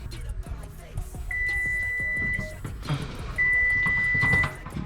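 A powder coat oven timer gives two long, steady electronic beeps separated by a short gap, heard over low room noise and faint background sounds.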